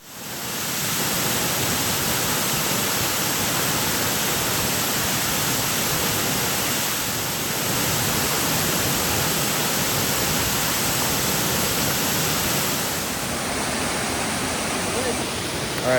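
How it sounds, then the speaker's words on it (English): The La Danta waterfalls in Antioquia roar as a steady, dense rush of falling water, loud and unbroken from start to finish. "that was the waterfalls of La Danta"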